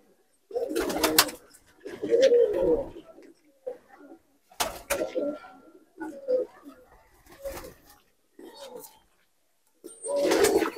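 Malwai pigeons coo in repeated soft, throaty bursts close by, with short pauses between calls and a few brief sharper sounds mixed in.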